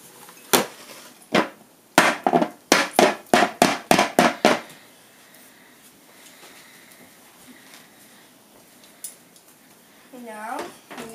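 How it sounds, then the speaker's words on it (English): A cooking pan is scraped and knocked with a utensil in a home kitchen, making a quick series of about a dozen sharp, loud metallic clacks over a few seconds, followed by quieter rustling and faint handling sounds. "let's clean that pan up a little bit"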